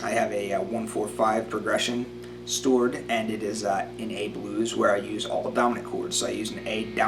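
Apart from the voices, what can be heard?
None of the usual background noises is heard.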